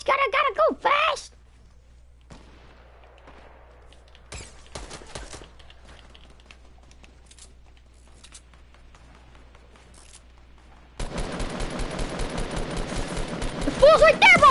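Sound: gunfire in Fortnite video game

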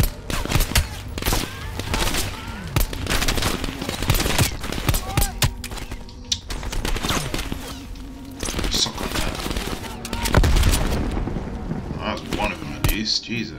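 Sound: grenade explosion and gunfire in the video game Call of Duty: Black Ops Cold War

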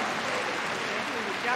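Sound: audience applause for dog display team

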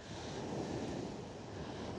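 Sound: wind at the seashore

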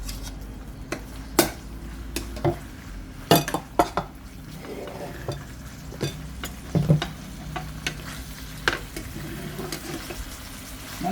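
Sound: stir-frying minced pork in a pan

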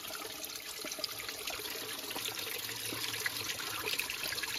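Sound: water flowing down a hillside in a forest

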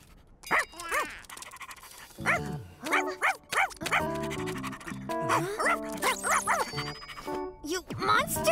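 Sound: puppy panting in animated kids movie

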